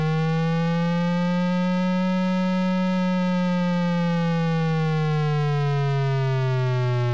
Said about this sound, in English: Gotta love that old school sound effects.